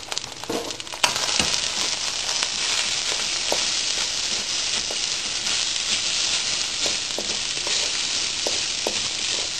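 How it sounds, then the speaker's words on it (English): Chicken fried rice with egg sizzling in a hot pan while being stirred, a loud, steady frying hiss with occasional scrapes and clacks from the stirring utensil, close up, with no talking. "Stirring it to break up the egg of course, and to make sure the rice is cooked evenly"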